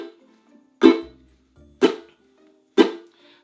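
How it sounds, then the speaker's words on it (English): A ukulele chuck strum, every string struck and then instantly palm-muted, sounds three times in a steady rhythm as short percussive clicks with a little ring, close and alone. "you're going to strum all the strings and then mute"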